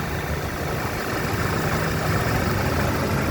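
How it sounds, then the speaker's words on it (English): A 2014 Audi A6 engine idles with the motor running, a steady, even rumble heard close up with no talk over it. "Okay, with the motor running."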